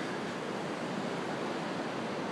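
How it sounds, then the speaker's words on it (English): Ocean waves breaking on a beach in Palm Beach, heard as a continuous broad hiss of surf and churning water with no distinct break points, fairly distant and steady. "But the waves are pretty good today."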